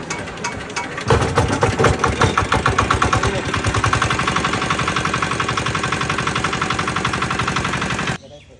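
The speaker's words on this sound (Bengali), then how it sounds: "এই যে মেশিন স্টার্ট দেওয়া হচ্ছে প্রথমবার" A new shallow-tube-well water pump engine, bought for irrigating a fish enclosure, starts for the first time with a loud burst and then settles into a steady, rapid, close-up mechanical chugging that runs unbroken for about seven seconds before cutting off.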